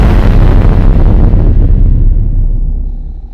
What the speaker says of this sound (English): putting distortion on the explosion sound effect would make it more intense like you were there